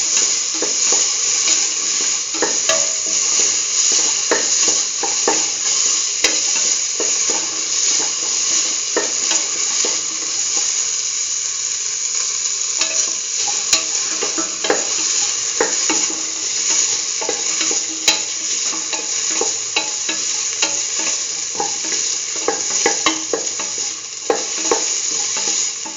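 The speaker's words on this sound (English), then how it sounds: "Thoroughly salt and mix." Salted tomato paste is stirred and mixed in a frying pan for a chickpea and beetroot stew, with a loud, continuous sizzle and frequent scraping strokes throughout.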